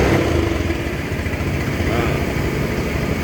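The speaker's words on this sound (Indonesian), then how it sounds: "ini saya nyalain sepeda motornya" A motorcycle engine runs at a low, steady idle with a rough, pulsing chug close to the listener, holding even throughout.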